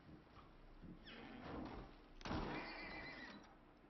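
A horse in the survival video game Icarus whinnies twice, the second call louder, amid thuds and hoof clops, faint overall and with no voices.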